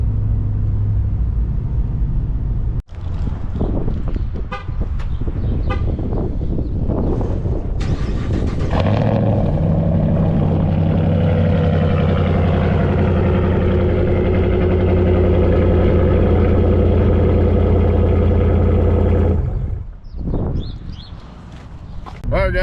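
A straight-piped 5.7 Hemi V8 in a fourth-generation Ram 1500 pickup idles and revs loudly up close, with a deep, throaty rumble swelling into a sustained roar before cutting off near the end.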